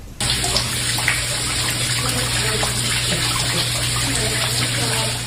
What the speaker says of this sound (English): You can see it pouring down this stairwell to the parking garage.